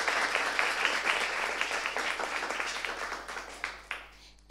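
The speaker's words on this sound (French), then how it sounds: "Je vous demande d'applaudir pour elle" Audience at a Femme d'Afrique gathering applauds steadily and fairly close for several seconds, fading toward the end before a sudden noise cuts in.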